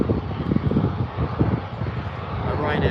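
A Ryanair Boeing 737 taxiing at Birmingham airport gives a steady jet engine rumble outdoors, with wind buffeting the microphone and someone talking over it.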